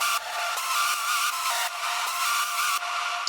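A bright hardstyle synth harmony lead plays a melody in sustained, shifting notes, steady and moderately loud with no bass underneath.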